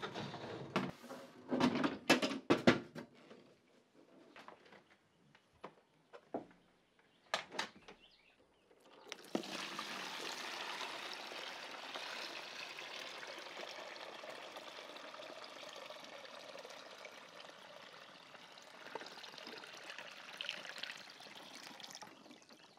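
Water trickles and drains steadily through a GreenStalk vertical garden tower during its first watering, a soft continuous pouring hiss after some scattered knocks, with no talk.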